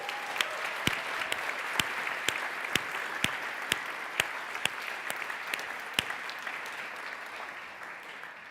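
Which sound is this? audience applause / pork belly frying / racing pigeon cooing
audience applause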